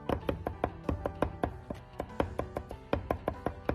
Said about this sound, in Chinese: 再准备大蒜2颗，先拍破，然后再剁碎